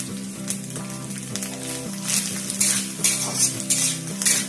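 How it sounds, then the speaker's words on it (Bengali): Chopped tomatoes frying in a pan after ginger, for a vegetarian bread-ball curry, crackle and hiss as a spoon stirs and scrapes in repeated bursts over a steady tonal background sound. The sizzle grows louder toward the end, and there is no speech. "আদাটা কষিয়ে নেওয়ার পর আমরা এতে টমেটো কুচিগুলো দিয়ে দিলাম।"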